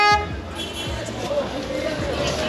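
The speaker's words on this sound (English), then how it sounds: "Some guy is honking." Vehicle horns honk repeatedly in Indian street traffic on the road from Siliguri to Darjeeling. Several short toots are spread through the moment over a bed of traffic and crowd noise.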